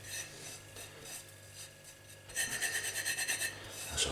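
Spice rub spread by hand over the top of a slow-cooked beef brisket, a soft dry rasping and rubbing, quieter at first, then a louder burst of quick rhythmic scrubbing strokes close by with no talk.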